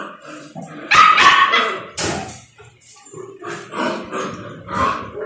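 A dog's yips, whimpers and short barks come in quick uneven bursts at close range, with no one talking.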